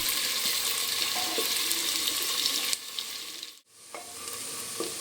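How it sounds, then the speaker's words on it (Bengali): Onions fry in a pan for a Bengali-style aloo dum, a steady close sizzle with faint stirring scrapes; the hiss drops off partway through, falls nearly silent, then resumes more softly with occasional clinks. "আমি পেঁয়াজটা ভাজতে থাকবো।"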